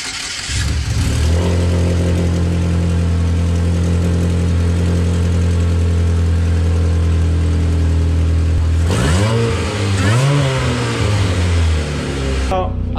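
A 2007 Chevrolet Cobalt SS with a newly fitted downpipe starts and settles into a loud, steady close-up idle, then is revved twice near the end, the exhaust note rising and falling, with people talking over it.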